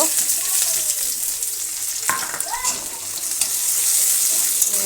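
Chopped onion and garlic hit hot oil with cumin in a village kitchen pan, giving a loud continuous sizzle with a sharp stir and spatula scrape partway through.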